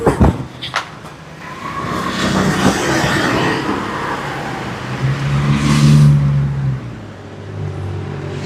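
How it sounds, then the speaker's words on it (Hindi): Cars and motorbikes pass along a street in Phuket Old Town, Thailand, as a steady rumble of traffic with engines swelling nearer around the middle and fading away, no talk over it. "तो इधर से कंटिन्यू आ रहा है ट्रैफिक इस साइड से।"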